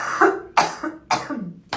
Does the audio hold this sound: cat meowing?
no